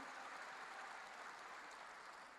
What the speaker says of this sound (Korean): 박수로 하나님께 영광을 돌려야 돼요